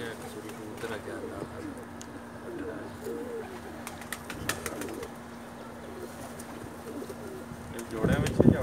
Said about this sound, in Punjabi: ਚਲੋ ਜੀ ਇੱਕ ਕਬੂਤਰ ਆ ਗਿਆ